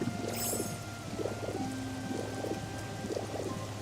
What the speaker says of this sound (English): I think it's just rain.